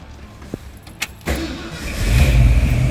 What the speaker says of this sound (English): how about I start it up for you so you can hear what it sounds like?